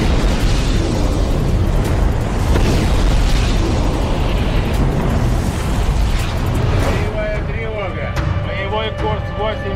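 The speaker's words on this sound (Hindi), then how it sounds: "कण कण को थर्राने वाले ऐसे धमाकों से धरती का साक्षात्कार होने वाला है?" Heavy explosions roar continuously in a dense, loud rumble with repeated booms and bursts, giving way near the end to faint tonal music.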